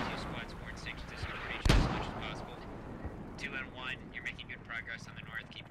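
Mortar fire in the tactical shooter Squad lands as a single heavy, close boom partway through, while voices talk over the ongoing battlefield noise before and after it.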